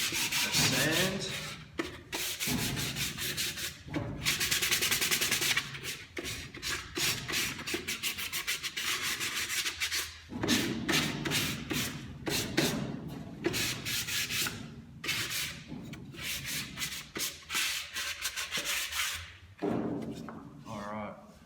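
Hand sanding of a wooden sliding-lid box with 120 and 240 grit sandpaper: steady, close, scratchy back-and-forth rubbing strokes in runs broken by brief pauses, with occasional light knocks.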